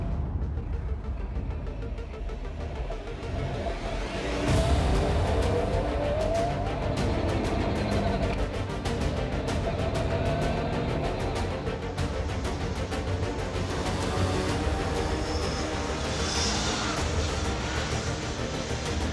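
A Radical RXC race car on semi-slicks, without any electronic aids, drives the Nürburgring Nordschleife in the rain, giving a continuous loud engine roar with road and spray noise that swells after a few seconds and holds steady.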